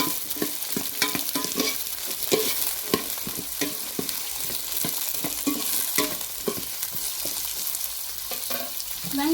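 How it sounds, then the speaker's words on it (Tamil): Small onions sauté in a pan as the base for a fish curry, a constant close sizzle broken by repeated stirring scrapes and spoon taps in an uneven rhythm, with no voice. "அப்புறம் சின்ன வெங்காயம். நல்லா வதக்கி விட்டுக்கலாம்."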